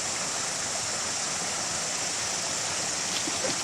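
A water hose blasts gravel during gold prospecting, producing a loud, continuous broadband rush like a stream or waterfall that holds steady throughout, with no talking.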